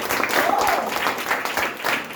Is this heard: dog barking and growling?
no